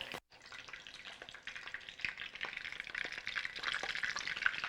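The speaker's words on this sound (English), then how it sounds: "Be very careful anytime you're frying and put them in the oil." Steady crackling sizzle of chicken cakes frying in hot oil, close up, with scattered pops and a brief drop in level near the start.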